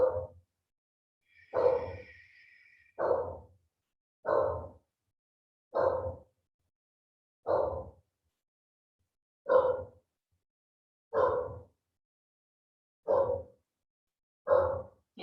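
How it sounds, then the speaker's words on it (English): A pet dog barks indoors at a yoga session, about ten single deep barks spaced a second or two apart in otherwise quiet surroundings. "If you can hear my dog barking"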